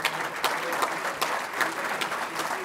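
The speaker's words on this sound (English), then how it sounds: "give them a round of applause" An audience at a county government address applauds officials, a steady burst of clapping from a sizable crowd at moderate distance, continuous for the whole stretch with no voices.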